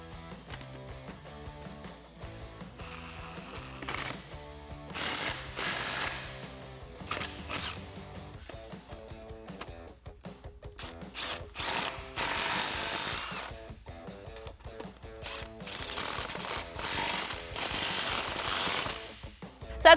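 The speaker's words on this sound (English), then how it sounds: "we can use that same 13/16 inch socket to tighten these up" A ratchet wrench with a 13/16 inch socket tightens bolts on a rear bumper with tire carrier for a 1987-2006 Jeep Wrangler, giving repeated close clicking bursts between pauses, with no voices.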